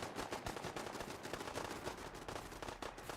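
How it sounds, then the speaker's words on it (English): Automated turrets mounted up high fire on a settlement in Fallout 4, a dense, continuous rattle of rapid gunfire bursts with overlapping shots throughout, loud and steady with no talking. "look at the turrets up on high."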